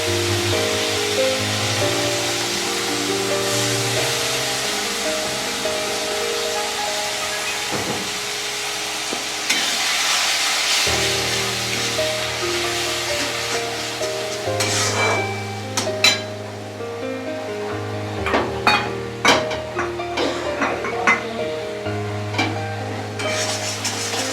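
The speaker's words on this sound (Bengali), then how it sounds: "মশলাটা পেস্ট করে রাখা মশলাটা দিয়ে দিচ্ছি।" Spice paste stirred into a frying pan while cooking chicken curry (kosha), a soft sizzle with scraping stir strokes growing busier toward the end, under steady tonal background sound.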